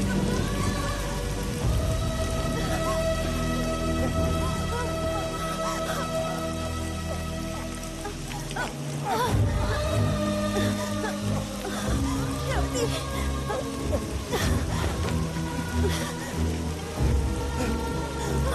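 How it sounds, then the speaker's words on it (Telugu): Rain pours steadily throughout, a dense, even patter with faint rumbles beneath, mixed with dramatic film music and occasional voices. "అయ్యో వర్షం వచ్చేలా ఉందే"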